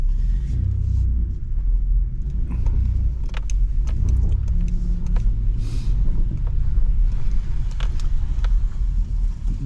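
A 2011 Chevrolet Impala with an antifreeze leak being driven, a steady low engine and road rumble throughout with faint rattles and clicks inside the cabin, no talking.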